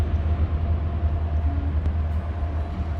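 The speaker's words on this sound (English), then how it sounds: "Train." Train rumbling past near an abandoned smelter ghost town, a steady loud low-pitched roar throughout with no talk.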